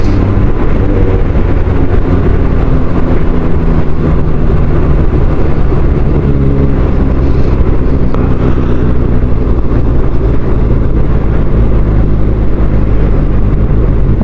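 Kawasaki Ninja ZX-6R (2024) engine lugging at very low speed in sixth gear, a loud, steady, low rumbling drone with wind noise running throughout and no talking.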